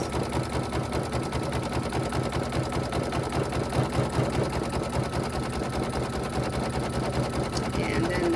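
An embroidery machine stitches a SpongeBob design onto a towel, its rapid, steady needle chatter running loud and close throughout.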